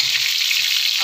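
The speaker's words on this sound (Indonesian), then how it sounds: "Goreng bawang merah sama bawang putih" Shallots and garlic fry in hot oil for a green chili prawn dish, a loud, close, steady sizzle with faint stirring knocks.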